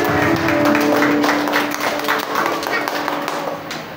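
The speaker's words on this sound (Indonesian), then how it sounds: "Tepuk tangan dong buat Kakak Luna." A room of people claps in a steady patter of applause, with voices chattering underneath throughout.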